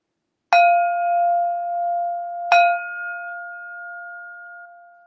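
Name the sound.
meditation bell ringing, second bell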